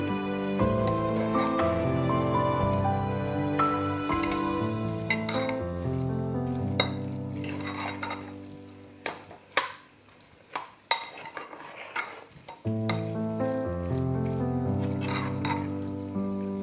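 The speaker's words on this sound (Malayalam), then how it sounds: "അരപ്പ് എല്ലാ ഭാഗത്തേക്കും നന്നായി മിക്സ് ചെയ്ത് കൊടുക്കണം." Masala paste is stirred through boti curry in a pan, spoon scrapes and clinks ringing under steady music, with a short quieter stretch before the music returns.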